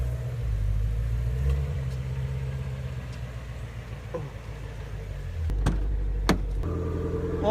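A Ford Mustang GT350R sits rumbling in a quiet morning neighborhood with its exhaust valves closed, giving a deep, steady idle that swells louder partway through, with a few sharp clicks over the drone.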